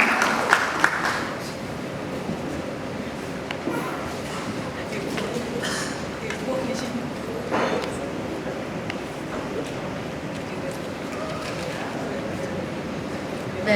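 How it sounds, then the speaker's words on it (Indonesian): An audience at an Indonesian media award ceremony applauds steadily for over ten seconds, a dense, even patter of many clapping hands heard from within the hall, with some voices mixed underneath. "Kita berikan tepuk tangan sekali lagi yang mulia bagi keluarga yang berbahagia."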